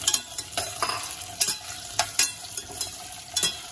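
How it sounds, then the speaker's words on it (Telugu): Potato cubes frying in a pan until lightly browned, a steady hiss broken by repeated sharp scraping stirs of a spatula, close and rhythmic. "కొంచెం బ్రౌన్ అయ్యే వరకు ఫ్రై చేసుకోవాలి"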